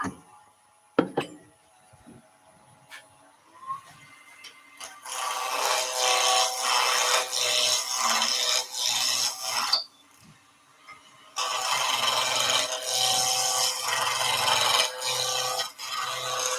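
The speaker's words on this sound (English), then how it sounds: "Turn the lathe on. And we'll go straight back in with the skew." A skew chisel cuts a spinning wood workpiece on a lathe, a hissing, rasping shaving sound that starts after a few quiet seconds with some clicks. It runs in long continuous passes, pauses briefly, then resumes close to the mic.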